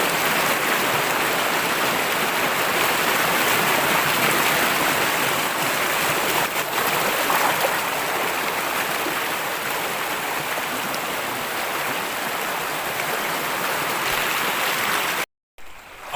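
Floodwater rushing from a broken rain drain after heavy rainfall, a loud continuous broadband roar of flowing water, steady throughout before cutting off abruptly near the end.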